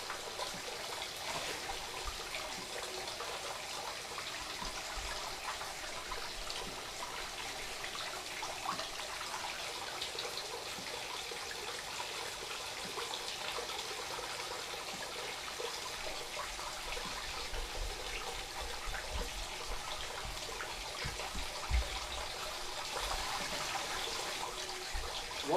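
Iron-rich water trickles and runs indoors during rock-busting work, a steady, moderately quiet wash of flowing liquid that continues without pause and without voices.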